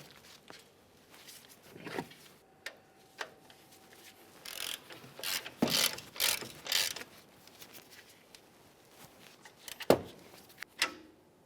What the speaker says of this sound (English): Let's snug each of these mounting bolts.